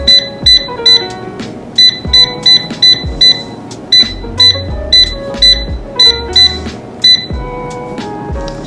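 An air fryer beeps in a steady series of short, sharp electronic tones as its temperature and timer are set for cooking turkey bacon, with some lower clatter underneath and no talk.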